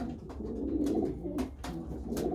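Pigeons coo steadily inside a loft holding untested young birds, soft throaty rolling calls overlapping close by with a constant low murmur and no talk.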